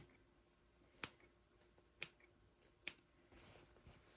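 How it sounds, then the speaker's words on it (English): Scissors snipping fabric at the darts of a sewn bowl cozy: three quiet, crisp snips spaced about a second apart over a faint, hushed room background. "a couple of little snips, a couple snips at this dart"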